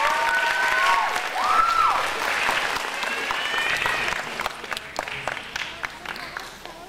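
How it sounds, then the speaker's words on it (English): Audience applause for a dance company at a senior classical dance awards ceremony, a sustained wash of clapping from a crowd that holds steady and then thins into scattered individual claps, with a voice over the clapping. "Big round of applause for them."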